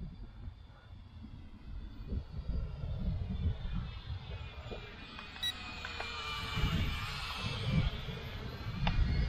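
A small P7 Pro Max quadcopter drone flies outdoors in a light breeze, its whining rotor buzz rising and falling as it climbs and turns, with faint wind noise underneath.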